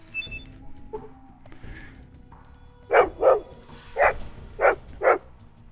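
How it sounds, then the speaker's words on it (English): Dog barking in the video game Fallout 2: five sharp, loud barks in an uneven sequence, following a few softer whimpers and background noises. "Hey, we hear the dog."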